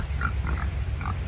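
Homestead pigs oink and grunt in short bursts over a steady low rumble of background noise, the calls fairly faint and close together.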